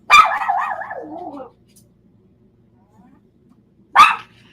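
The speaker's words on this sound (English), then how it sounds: "No, that's my dog. It's my little dog." A small dog barks in a short agitated burst of several yaps with a low growl trailing off, then one more sharp bark after a pause of silence; the barking is close and loud.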